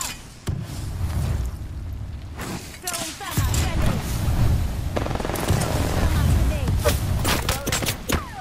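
Rapid gunfire in the shooter game Apex Legends: loud bursts and single shots crack over and over at close range, with game voices calling out between the volleys.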